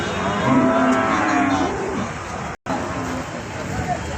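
Cattle moo repeatedly at a busy rural livestock market in Bangladesh, close and loud over a steady crowd murmur, with a brief cut to silence midway.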